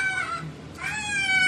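A cat meows in two drawn-out, harmonic calls, one early and one longer toward the end, close and fairly loud with no talk over it.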